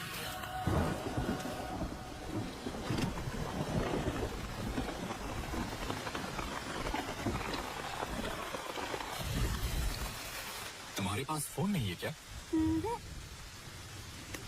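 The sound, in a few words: rain falling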